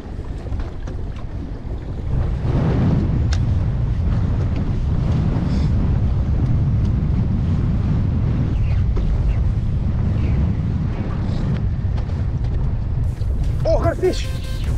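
Strong wind roars steadily around a fishing boat at sea, a loud continuous rush with gusty buffeting against the microphone and brief voices near the end.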